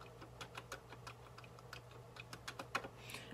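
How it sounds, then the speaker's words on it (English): Keys clack on a Commodore 64 keyboard in an irregular run of crisp taps, close but quiet, with a steady low hum underneath and no talking. "So right now I'm just messing around with the keyboard."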